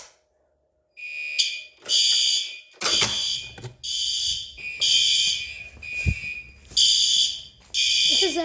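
A fire alarm system test in a garage with Commander 3 and P2 devices: loud, repeated electronic alarm blasts in pulses of about a second, separated by short gaps, with a brief clatter partway through.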